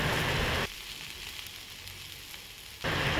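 Potatoes frying in a pan give a loud, dense sizzle that cuts away to near quiet for a couple of seconds, then surges back just as strongly at the end.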